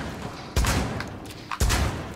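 Shotgun fire in Rainbow Six Siege, two loud, close blasts about a second apart, each a sharp crack with a booming tail, over a steady background of game noise.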